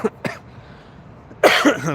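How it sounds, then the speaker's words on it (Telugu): Two short coughs near the start, then a louder burst of harsh coughing toward the end, outdoors in cold, misty air, close and clear against a quiet background. "బయట ఉంటే ఇంక దగ్గు వచ్చేస్తుంది ఈ మంచుకి"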